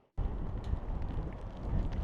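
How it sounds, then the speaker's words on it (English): Sudden loud buffeting of strong wind against the microphone atop the Tower of Hercules, a Roman lighthouse, a low rumbling roar that continues steadily after a quiet start. "It is so windy up here, so hopefully the wind doesn't come out on the microphone too bad."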